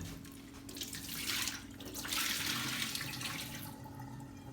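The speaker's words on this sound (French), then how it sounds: "Et j'aime bien mettre un peu d'eau froide." Cold tap water runs steadily over peeled potatoes in a kitchen sink, a close, continuous splashing rush that swells and eases in waves, with no voices.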